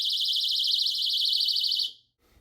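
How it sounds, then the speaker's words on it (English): An Eva Logik glass break alarm triggered by a tap on a window. It gives a loud, close, warbling electronic shriek that holds steady for about two seconds, then cuts off abruptly. "I just barely hit the window and the alarm activated."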